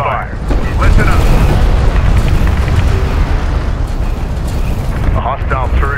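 Explosions and heavy booms roll continuously as a turret is destroyed in the Homeworld space strategy game, a dense loud rumbling battle din with radio-style voices cutting in briefly.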